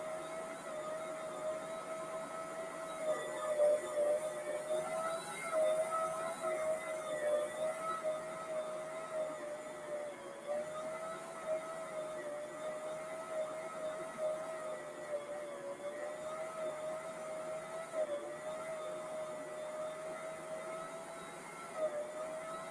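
Stand mixer running while kneading pretzel dough, a continuous moderate electric whir with a steady motor tone and faint fluctuations, playing alone throughout.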